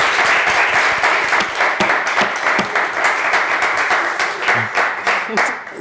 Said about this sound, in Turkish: Nerede bizim teselli alkışımız?